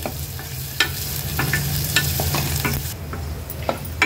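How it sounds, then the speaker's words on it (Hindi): Half an onion sautéing in oil on a low flame: a constant soft sizzle broken by repeated scraping stirs of a spatula against the pan, close and fairly loud, with no talking. "तो पण व्यवस्थित आपल्याला तेलावर लो फ्लेमवर परतायचा आहे।"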